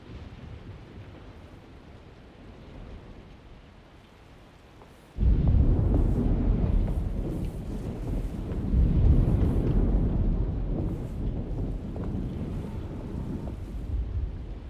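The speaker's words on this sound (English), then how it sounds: "Looks like a storm's coming." Deep rumbling thunder and gusting storm wind from the Alone in the Dark game: a quiet stretch, then a loud roll breaking in around five seconds and sustained roaring wind with a second swell, no talking.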